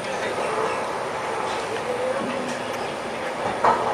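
A Kanchan Kanya Express train pulls out of Siliguri station, giving a steady low rumble of rolling carriages with faint wheel clatter and a brief squeal near the end.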